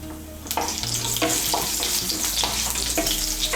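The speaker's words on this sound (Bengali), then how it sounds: "এর মধ্যে এখন দিয়ে দেব ফোড়ন। ফোড়নের জন্য নিয়েছি 2টো শুকনো লঙ্কা, আর নিয়েছি হাফ ছোট চামচ গোটা জিরে।" Dried red chillies and whole cumin seeds hit hot white oil in a pan, giving a steady broadband sizzle with a few sharper crackles and pops, close and continuous, no voices.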